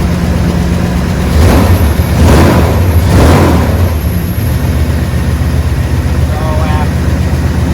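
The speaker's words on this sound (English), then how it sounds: "There's at least one cylinder is not running on for some reason." A newly swapped engine idling rough with one cylinder misfiring, a loud uneven rumble with several surging pulses early on, a voice speaking briefly over it.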